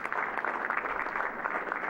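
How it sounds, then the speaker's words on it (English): Applause at a San Bruno city council meeting honoring an outgoing official's assistant: steady, moderately distant clapping from a room of people, a continuous even patter with no voices over it. "give her a round of"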